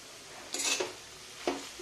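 A spoon scraping and clinking against a pan while coriander is stirred into a dry peanut-powder capsicum and potato curry, two or three brief close metallic strokes.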